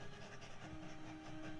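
A train rumbles steadily and closely with a continuous mechanical roar, and a faint sustained tone rides over it, with no speech.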